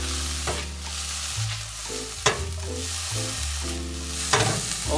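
Kimchi and mushrooms fry in a hot pan with a steady, loud sizzle, stirred now and then with a few sharp clatters against the pan, while a low hum of background music runs underneath.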